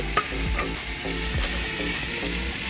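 Leftover water lily (shapla) frying in a pan, with continuous close sizzling and occasional scraping stir strokes against the metal.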